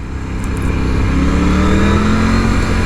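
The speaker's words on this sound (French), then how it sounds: "cette petite chansonnette, vous voyez, de ce petit moteur là" Triumph Tiger 900 motorcycle engine rises in a sustained rev, the pitch climbing gradually and holding loud and close with a steady throaty drone and no talk.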